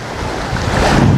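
Waves from a reservoir at the Pasak Jolasid Dam washing against the shore, a loud, continuous rushing surge mixed with gusty wind noise, close to the microphone.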